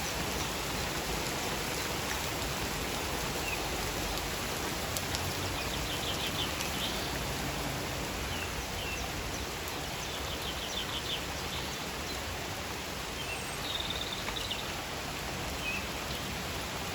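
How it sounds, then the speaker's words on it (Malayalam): Evening rain falling outdoors over a vegetable garden, a dense, even hiss of drops that holds steady throughout, with faint bird calls in the background. "മഴ പെയ്ത് തുടങ്ങിയിട്ടുണ്ട്."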